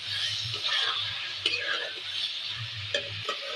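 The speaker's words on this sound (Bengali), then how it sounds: "ভালো করে কষিয়ে নেবো আলু পটল।" Potatoes and pointed gourd stirred and sautéed in a pan, with a steady low sizzle and spatula scrapes and clinks against the metal at intervals, close by, without talk.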